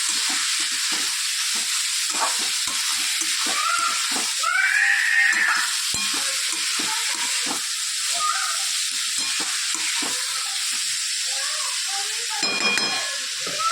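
Ivy gourd (tindora) pieces fry in hot oil with a steady, dense sizzle that runs throughout, plus a few faint clinks and brief tonal squeaks nearby.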